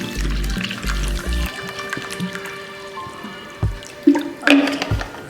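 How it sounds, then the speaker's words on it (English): Water is poured into a glass for a home science experiment with lemon and detergent, starting with low gurgling glugs, then faint trickles and a few sharper splashes and drips near the end, close and fairly quiet. "First we should pour some water."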